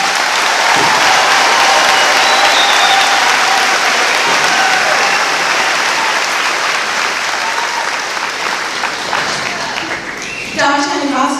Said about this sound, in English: Please join me in a round of applause for these outstanding graduates.